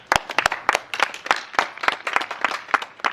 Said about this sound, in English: Let's give an applause to Leon, guys.